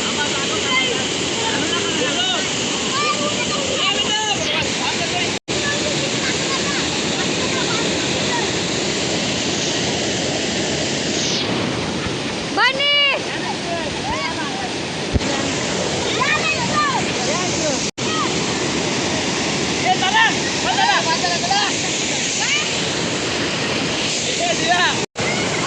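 Rushing water from a waterfall roars continuously and loudly for the whole stretch, while voices talk and call out above the constant wash.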